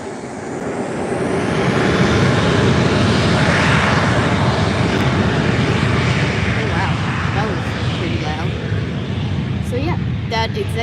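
A Gulfstream G200 Galaxy executive jet of Executive Jet Management at Málaga airport roars loudly and steadily past, a broad engine rush that swells and holds, with someone talking over it.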